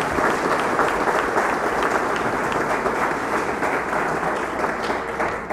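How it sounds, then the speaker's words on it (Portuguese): An audience at a state labor congress plenary in Gramado, Brazil applauds steadily, dense close clapping from a large crowd holding an even loudness throughout, with no talk over it. "Uma salva de palmas, por favor,"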